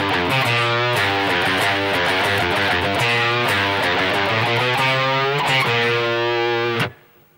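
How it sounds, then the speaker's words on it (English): Distorted electric guitar plays the pre-verse riff from a song in G, a driving run of repeated picked notes and chord stabs that rings loud and steady, then stops abruptly near the end. "So I'll play through the first guitar part of the pre-verse riff"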